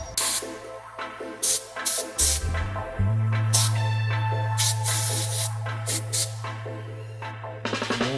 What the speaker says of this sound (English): I'm going to just get some compressed air and clean this section of the filter